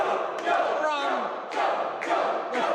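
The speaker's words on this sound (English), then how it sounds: "The crowd solidly behind Joel Lightning." A wrestling crowd at a live match shouts and cheers in surging waves, with a chant-like swell and a few thuds, moderately loud and heard from within the arena.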